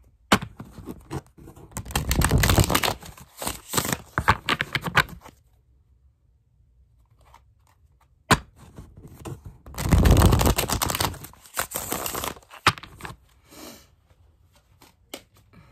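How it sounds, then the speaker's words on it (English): Tarot cards are shuffled close by in two long riffling bursts, rapid crisp flutters separated by a brief quiet pause and a sharp tap. "Give these another good shuffle,"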